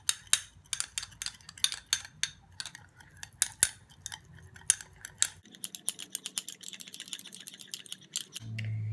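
Honey and two other ingredients stirred together with a spoon in a small bowl, giving dense, rapid clicks and scrapes of metal on the dish, close and fairly quiet, with a short low thud at the end.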